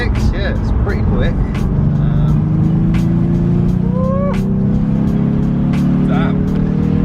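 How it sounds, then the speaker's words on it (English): A Ford Mustang V6 accelerating from inside the cabin, a loud, continuous engine drone rising steadily in pitch over several seconds while people talk and exclaim over it. "Pretty rapid, this car. For a V6, yeah, it's pretty quick."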